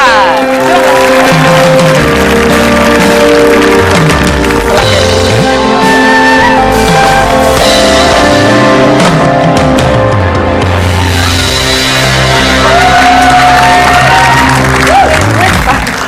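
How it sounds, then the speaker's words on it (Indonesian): A television game-show studio audience claps and cheers steadily for sixteen seconds, loud and dense, with whoops and shouts rising above the applause while background music plays underneath. "tepuk tangan dulu"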